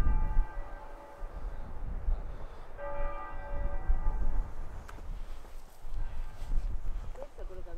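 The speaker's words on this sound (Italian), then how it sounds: "Sento una campana." A church bell rings at a distance in two sustained strokes, each leaving a lingering tone, over a steady low rumble of background noise with possible faint voices.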